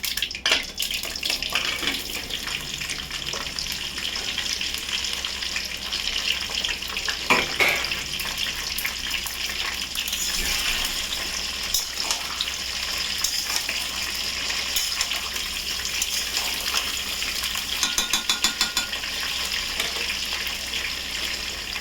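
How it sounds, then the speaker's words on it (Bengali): Mango pieces for a sun-free pickle sizzle in hot oil in a pan. A dense, steady crackling hiss carries on without a break, with occasional sharper pops and stirring clatter, and no voices. "তেল আমার গরম হয়ে গেছে, এবার আমি আমটা দিয়ে দেবো বন্ধুরা।"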